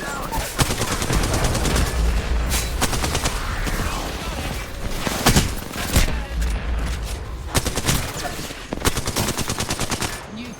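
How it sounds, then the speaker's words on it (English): A loud, chaotic video game shootout: rapid automatic gunfire bursts and single sharp shots overlap with repeated cracks and thumps across the whole span, with a faint voice now and then. "They're shooting at me."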